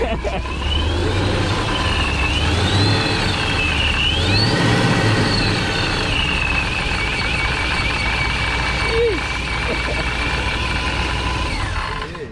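A Hemi muscle car engine idles with a choppy, lopey rumble, loud and close and steady throughout, with voices and other engine noise from a meet nearby.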